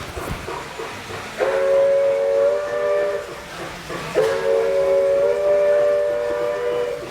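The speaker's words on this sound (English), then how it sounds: "What you're hearing is, it's a real outdoor garden railway" A small model steam train on an outdoor garden railway chuffs and hisses nearby, and a shrill steam whistle blows twice, each blast lasting a couple of seconds.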